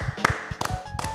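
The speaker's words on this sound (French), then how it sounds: "on peut applaudir" A few sharp claps and taps from a small audience after a karaoke performance, brief and scattered across about a second, with a hint of voices.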